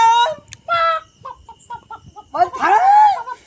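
Roosters cluck and give short crowing calls close by, loud bursts with pauses between them and a longer crow near the end, with no clear talk.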